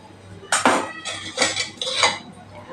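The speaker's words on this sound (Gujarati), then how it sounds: "થેપલાની સાઈડ આપણે ચેન્જ કરી લઈશું" Dudhi (bottle gourd) thepla flatbread being flipped on a pan, giving a few loud metallic clinks and scrapes in quick bursts, close by with no talking.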